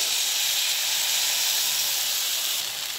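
Poppy seed paste hits a pan of potato and cauliflower for posto and gives off a continuous close hiss of sizzling steam, even and unbroken for the whole stretch.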